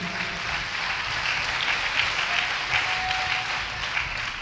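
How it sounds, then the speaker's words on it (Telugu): A church congregation claps together in praise of God, producing a dense, sustained wash of applause that stays fairly even and loud throughout. "అందరూ చప్పట్లు కొట్టి దేవుని మహిమపరచండి గట్టిగా"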